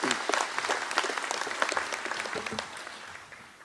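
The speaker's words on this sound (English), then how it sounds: "Would you please give them a final round of applause?" Audience applause for the candidates at a cooperative's annual meeting: steady, dense clapping from a crowd indoors, fairly even throughout and gradually thinning toward the end.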